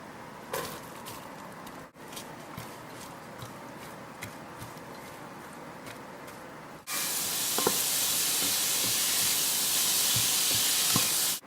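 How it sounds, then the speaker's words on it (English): Onions sautéing in hot olive oil in a sauté pan over high heat: a low crackling fry with faint scrapes, then a sudden loud, steady hiss of sizzling that holds for several seconds, close by and without talk. "I will first heat the olive oil and then add the onions and sauté them"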